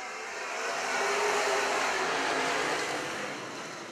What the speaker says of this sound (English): Revs are up. Green is out.